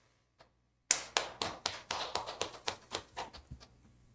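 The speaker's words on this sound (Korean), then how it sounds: "박수로 환영해 주십시오." A small audience at an international accelerator research conference claps to welcome a speaker, with about a dozen distinct, quiet claps in a steady rhythm that gradually fade out.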